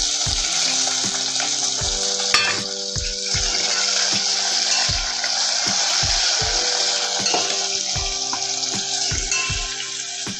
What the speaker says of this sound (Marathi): कढीपत्ता तळल्यावर याच्यात आपण 1 बारीक चिरलेला टोमॅटो